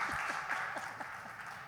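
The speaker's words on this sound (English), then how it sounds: "Yeah, you can continue clapping." Audience applause at a music conference talk, a steady wash of clapping heard fairly faintly and at a distance, fading gradually.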